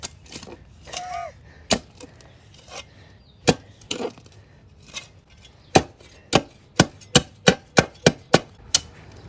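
A digging tool strikes buried cement in dirt, giving a run of sharp, hard knocks that start scattered and become a steady, rhythmic series of close, loud impacts over faint background noise.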